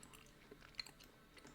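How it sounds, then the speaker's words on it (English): Someone chewing near a microphone, soft crunching bites with one sharper crunch in the middle, faint over low room noise, with no talking. "I'm so sorry if you can hear that chewing"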